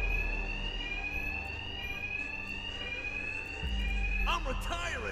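A bank alarm rings steadily throughout a Batman: Arkham Knight bank robbery scene, a continuous high electronic tone over low rumbling background, with a brief burst of voice or effects near the end.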